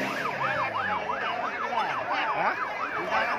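An ambulance siren wails in a steady, rapidly repeating rise-and-fall pattern throughout, loud and fairly close. Faint background noise sits underneath the siren.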